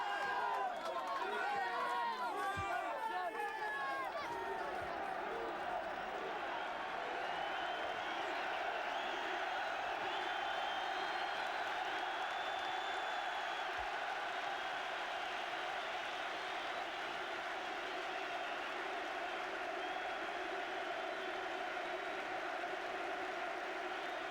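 A sellout crowd of 37,000 at a Newcastle United football match roars and chants in tribute at Kevin Keegan's last game, a dense, sustained stadium sound. A commentator talks over it almost throughout.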